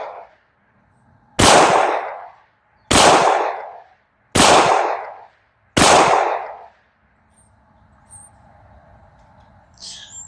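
Four loud, sharp Canik TP9SFX pistol shots at a practice session, evenly spaced about a second and a half apart, each with a short ringing decay, followed by quiet background noise.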